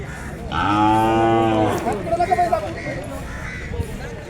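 A bullock moos loudly at a crowded bull market in Belhe, Maharashtra: one long, deep, close call, followed by the murmur of traders and farmers talking nearby.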